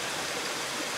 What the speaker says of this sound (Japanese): ちょっとちっちゃい滝だね。